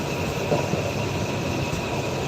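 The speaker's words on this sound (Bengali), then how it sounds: "জামালপুর কমিউটার মেইল আর কি এটা জামালপুর যাবে ঢাকা থেকে কমলাপুর থেকে জামালপুর গিয়ে পৌঁছাবে" The Jamalpur Commuter Mail local train, running from Kamalapur in Dhaka to Jamalpur, makes a steady broad rumble with a faint tonal whine at the station.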